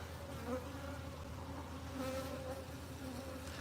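Honey bees buzz at a flow hive during a honey harvest, a close, continuous droning hum of many insects that holds steady throughout, with no talk over it.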